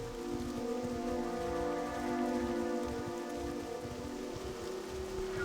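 Steady rain falls in the video game World of Warcraft Classic, a dense continuous patter hissing evenly throughout with no talk over it.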